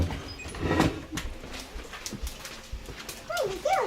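Puppies whimper and whine in a small room, with thin high squeals near the start and end under scattered shuffling and handling noises.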